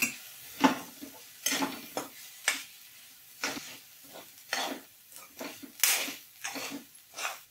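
Grated coconut roasting with tomato in a pan for a Goan sprouted moong curry, heard as a string of close spatula scrapes and knocks against the pan over a faint sizzle.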